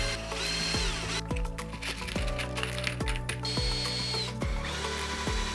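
A power drill drives screws into a wooden bird table post, whirring in several short bursts with steady pauses between runs; up close and loud, with no talking.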